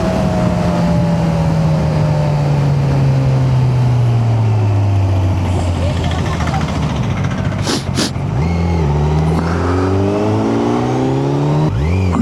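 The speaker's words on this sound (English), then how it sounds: "I wanted to enjoy the engine noise and the hills" A Kawasaki Z900 motorcycle climbs a hill road toward Nandi Hills, the engine loud and close from the rider's position, its pitch sliding down then rising again through gear changes and revs, with wind rush throughout.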